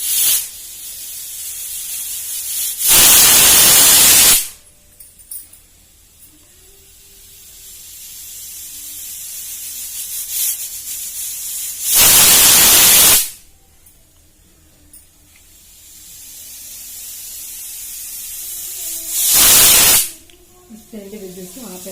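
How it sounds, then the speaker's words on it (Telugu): A pressure cooker cooking sweet rice releases three loud hissing whistle bursts, each lasting a second or two at spaced intervals, with quieter stretches and some background sound between them. "2 విజిల్స్ ఆపేస్తున్నాను."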